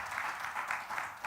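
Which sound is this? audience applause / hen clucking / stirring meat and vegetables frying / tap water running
audience applause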